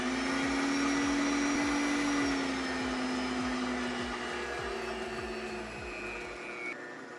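AAOBOSI touchscreen meat grinder and veggie slicer running alone at a steady motor whine with a rapid mechanical chatter, loud and close, easing slightly in pitch over several seconds.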